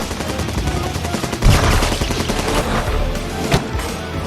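Rapid cartoon-style machine-gun fire from a monster film, a dense continuous rattle of shots with a heavier boom about a third of the way in and another sharp blast near the end, loud and close.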